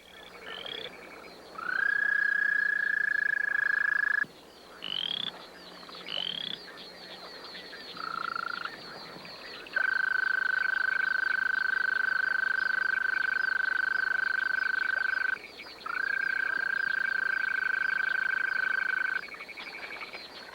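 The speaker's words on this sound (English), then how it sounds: "Prehistoric ancestors of frogs and toads shattered the primeval silence with their mating chorus." Frogs and toads call in a mating chorus of long, sustained trilling notes, overlapping and fairly loud, with brief gaps between calls.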